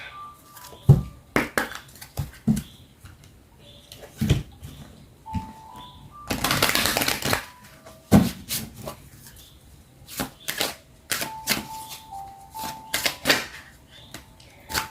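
Oracle wisdom message cards shuffled by hand before a draw, giving a run of quick, close papery taps and slaps with one longer riffling burst in the middle, no talking over it.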